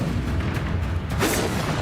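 Incendio fire spell cast in Hogwarts Legacy: a single whooshing, booming burst of flame erupts around the middle of the moment, rising out of a dense, rumbling bed of continuous game combat sound.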